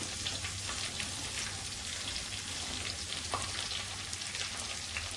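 Onions sautéing in a pan for a Maharashtrian split-pea dal, an even, close hiss of frying oil with faint crackles throughout and no voices.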